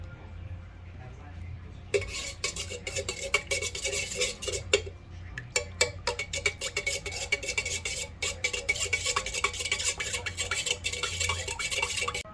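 A utensil stirring a yeast mixture in a bowl, rapid irregular clinks and scrapes against the bowl that start abruptly and continue steadily, close and fairly loud.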